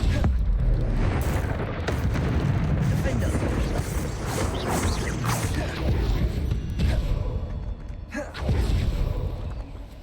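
Hogwarts Legacy combat with the Confringo fire spell, a dense, continuous run of booming blasts and rumbling explosions, loud and close throughout, with short dips near the middle and end.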